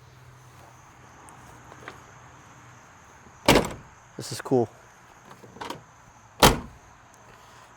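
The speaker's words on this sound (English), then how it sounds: "Doors closed decent." Heavy doors on a 1972 Demon or 1969 Roadrunner close at close range with several solid thumps spread over a few seconds, under a quiet outdoor hum and brief talk.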